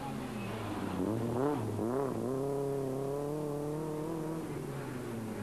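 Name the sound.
rally car driving slowly through a special stage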